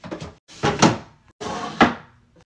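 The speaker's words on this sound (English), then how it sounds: "Putting the drawers in." Wooden drawers slide into a new vanity in three separate pushes, each a scraping rumble ending in a louder knock as the drawer seats, close and distinct.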